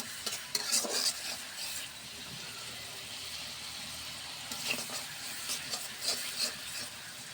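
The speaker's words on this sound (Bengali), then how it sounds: "এখন আমি একটু সময় কষিয়ে নিব।" A ground spice mixture with cumin powder sautéing in a pan, giving a continuous soft sizzle and hiss, with scraping stir strokes and light clinks of a spoon on the pan, heard close by.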